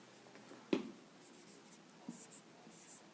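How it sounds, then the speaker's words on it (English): A pen or pencil on paper drawing a circle, with a sharp tap as the tip touches down, followed by soft, faint scratchy strokes in a quiet room. "You can draw a circle, make a positive sign in the middle of it."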